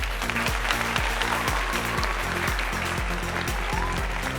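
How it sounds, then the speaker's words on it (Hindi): Audience applause welcoming a speaker at a Hindi Bible quiz competition, steady and loud throughout with dense clapping over a background music pattern. "जोरदार तालियों से हम स्वागत करें"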